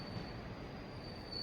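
The Ernakulam to Kannur Intercity passenger train runs with a low, steady rumble and a thin wheel squeal, faint and heard briefly from on board.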